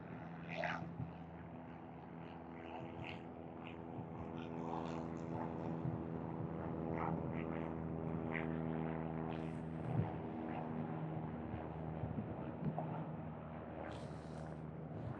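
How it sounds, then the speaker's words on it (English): A tow plane's propeller engine drones steadily through the clip at a paragliding site in a valley, harmonic and continuous with no clear rise, heard from a distance under wind. "Keep an eye on the plane, he's about to go."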